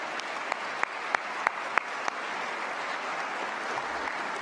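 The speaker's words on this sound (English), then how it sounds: "And keep that applause going for all of the team that made today's event happen" An audience at a Cal Poly convocation applauds the faculty and staff award recipients and the event team, a broad steady wash of clapping with a few sharper claps standing out early on, continuing without talk.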